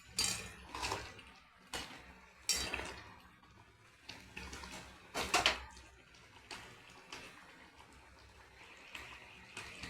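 A spoon scrapes and clanks in a metal pan while egg curry is stirred after garam masala goes in; sharp clinks and scrapes come at irregular intervals, close and fairly quiet, with no talking.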